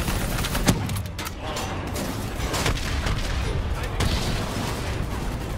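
Gunfire and explosions from a Call of Duty 4: Modern Warfare battle, a dense, steady barrage of shots and booms filling the whole stretch with no pause.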